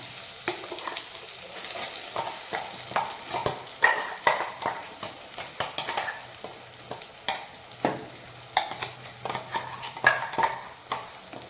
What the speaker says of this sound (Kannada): ಅದನ್ನು ಚೆನ್ನಾಗಿ ಫ್ರೈ ಮಾಡ್ಕೊಳ್ಳಿ.